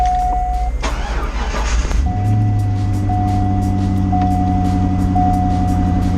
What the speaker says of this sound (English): Let's start the C5 up.